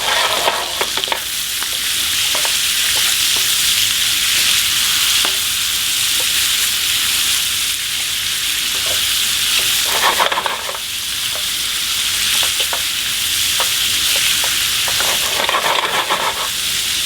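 Chicken pieces cooking in a hot pan for carbonara, a loud continuous sizzle broken by bursts of scraping and stirring.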